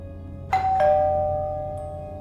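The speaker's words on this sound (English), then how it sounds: "the bell rang for the last time that night." A doorbell rings late at night with two clear, loud chime tones in quick succession, each ringing on and slowly fading.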